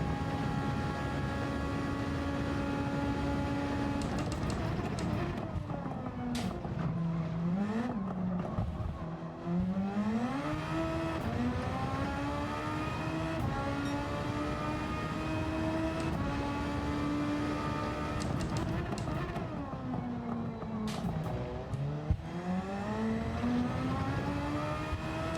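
Race car engine in a racing video game, held at a steady high drone with pitch rising and falling through several gear shifts and throttle changes across a long lap, loud and continuous with no voices.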